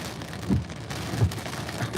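Steady rain falls during a strong thunderstorm in York County, Pennsylvania, a continuous close patter of droplets with a couple of soft low thumps, and no voices.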